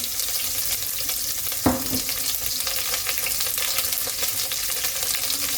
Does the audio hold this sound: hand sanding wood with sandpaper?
no